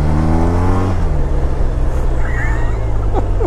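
A BMW R1250RT motorcycle accelerating hard on a cold day, its engine droning loud and close before the revs drop sharply partway through, with wind rush continuing afterward.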